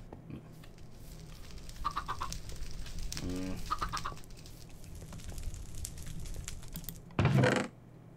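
Chickens clucking in the Stone Block 2 video game, heard as a few short scattered clucks over a low background hum, ending with one louder, closer squawk-like burst.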